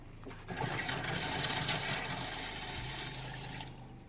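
Water rushing through a newly plumbed sink drain in a camper van build, a loud steady gushing flow that starts abruptly and runs continuously before easing off.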